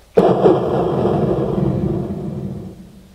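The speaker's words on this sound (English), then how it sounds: "All I heard was thunder come out of their mouth." Thunder sound effect on a radio show: a sudden loud crack followed by a deep rolling rumble that fades out over about three seconds, with no voices.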